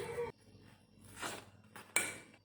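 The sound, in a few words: mixing semolina and flour with a fork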